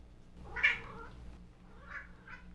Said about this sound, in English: The cat is yelling at me.